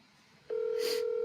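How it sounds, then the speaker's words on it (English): An outgoing call rings back on the phone line, a steady electronic ringing tone that starts abruptly and holds, with a brief hiss of noise over it. "Can you guys hear the phone ringing?"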